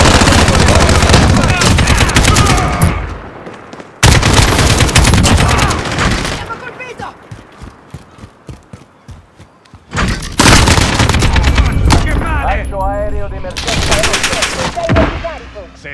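A bombardment strike in the video game Call of Duty Modern Warfare, loud dense barrages of blasts and heavy gunfire in long waves, dropping into a quieter stretch of scattered thuds before another roaring salvo, with voices at times.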